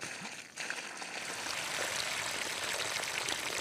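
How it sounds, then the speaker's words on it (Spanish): Heavy artificial rain poured from a water tank through a hose makes a dense, steady hiss that swells after a brief quieter start and then holds loud and even. "Janine Rabe simulará ahora una fuerte lluvia con un tanque de agua y una manguera."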